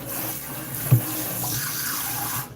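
Tap water runs steadily into a container to cover sorrel for soaking, a continuous splashing hiss with one brief knock partway through, stopping abruptly near the end.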